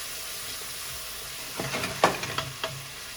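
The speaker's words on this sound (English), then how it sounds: "Drop the saltfish in to saute." Saltfish dropped into a hot pan to sauté, a soft steady sizzle that suddenly flares into louder crackling and spattering bursts, with a light stirring scrape.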